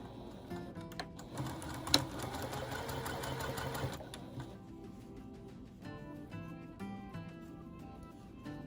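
Sewing machine stitching quilt block pieces for a butterfly log cabin quilt at a quarter-inch seam, a steady close mechanical whir running through with a few brief pauses and taps near the end.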